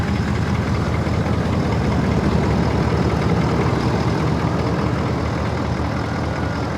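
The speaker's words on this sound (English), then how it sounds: "I just love the sound of a diesel" A diesel truck engine, a Cummins, idles steadily with a low, rough rumble, continuous and close, with no voices.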